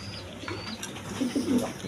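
A pair of Rajgolla pigeons coo in low, soft rolling calls, two or three short coos near the end over steady background noise.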